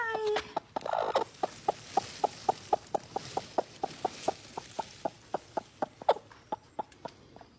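Adult hens on a farm clucking in a steady, evenly spaced series of short calls, about two per second, fairly close and alone, with a slightly busier flurry of clucks at the start.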